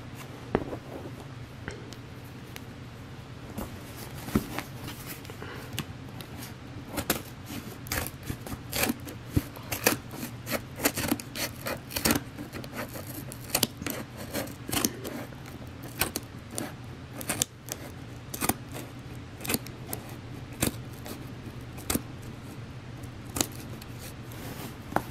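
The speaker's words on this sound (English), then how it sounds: "I have the scissors here" Scissors snip and cut through the packaging of a subscription box during an unboxing, giving sharp irregular clicks and crunches over a steady low hum, close and moderately quiet, with no talking.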